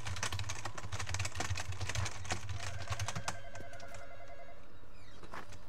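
A telephone rings inside the Roblox horror game Midnight Hours, a steady tonal ring sounding through a busy, clattering game soundscape with tapping, click-like noises, with no one speaking over it.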